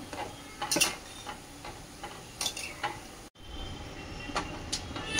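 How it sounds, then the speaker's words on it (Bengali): Nimki dough pieces frying in oil while a spatula stirs them, an even sizzle with irregular metallic scrapes and clicks and a brief dropout midway. "আমি এখন এই যে খুন্তি করে ভালো করে নাড়াচাড়া করে নেব। তারপরে গ্যাসটা মিডিয়াম করে ভাজবো।"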